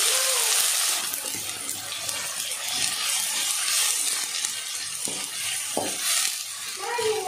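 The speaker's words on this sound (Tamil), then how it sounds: "ஒரு பெரிய வெங்காயம் பொடியா நறுக்கி வச்சிருக்க, அதை ஆட் பண்ணிக்கலாம்." Finely chopped large onion fries with fennel seeds in hot oil for chicken kari dosai, giving a steady, loud, hissing sizzle with occasional stirring clatter throughout.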